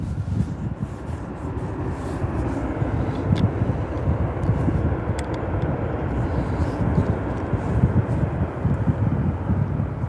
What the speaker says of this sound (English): Skidding down the runway, but it's down.